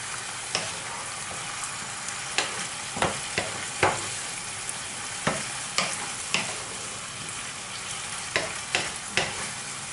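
Pork cheeks fry in a pan with a steady sizzle, punctuated by repeated sharp scrapes and clinks as a utensil stirs them every second or so, close and unaccompanied by speech.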